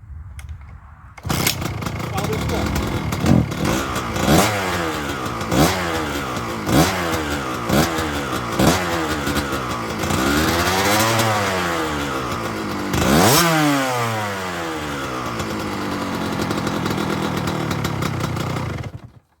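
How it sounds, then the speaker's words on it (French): A motorcycle engine still being broken in idles and revs repeatedly, rising and falling in pitch with sharp throttle blips, close and loud throughout. "que la moto à Christopher est en rodage."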